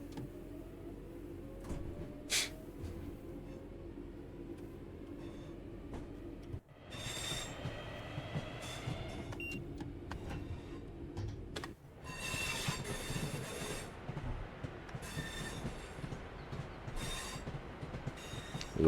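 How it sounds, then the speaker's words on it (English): The Manchester Airport commuter train in Train Sim World 5 runs with a low steady rumble and hum, occasional clicks and a whine, quiet and continuous, with a brief dropout partway through and no talking. "Characteristic sound of this train."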